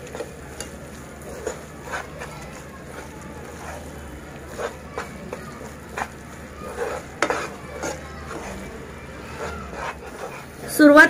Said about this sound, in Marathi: आणि मंद गॅसवर आपण हे डाळीचं पीठ छानपैकी अगदी गुलाबी रंगावर भाजून घ्यायचं।